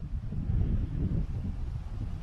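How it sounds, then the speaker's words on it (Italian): Gusty wind buffets the microphone at a lakeside camp in Lapland, Sweden, a steady low rumble that swells and eases throughout with no talk. "c'è un po' di vento"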